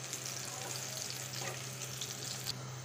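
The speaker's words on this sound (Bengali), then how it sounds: "এখন ডালটা হয়ে গেছে, ডালটা বাগার দিয়ে দিব।" Onions browning in hot oil in a pan as a tempering for tamarind dal give a steady, close, even sizzle that carries on without pause and without any voices.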